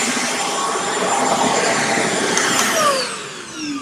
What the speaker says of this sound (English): conventional vacuums, which are just too noisy and scare cats away.